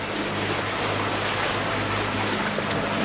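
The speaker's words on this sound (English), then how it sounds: "We are motor sailing." Sailboat motor sailing with the engine running and headsail up on open water, a loud steady rumble blended with rushing water and wind buffeting the microphone, no talk.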